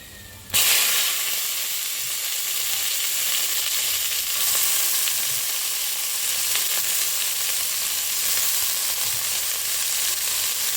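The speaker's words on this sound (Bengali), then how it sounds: "শুকনো লঙ্কা আর রসুনটা ভালো করে ভেজে এবার আমি দিয়ে দেব বেগুনটা" Salted eggplant hits hot oil already frying dried red chillies and garlic, bursting into a sudden loud sizzle that settles into a steady, close hiss.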